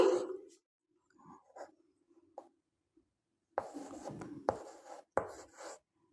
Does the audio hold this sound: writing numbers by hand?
yes